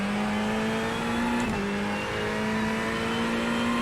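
A GT3 race car in the iRacing simulator holds a steady, droning engine tone, dipping briefly as it brakes into a corner and then climbing again as it accelerates away, with no talk over it.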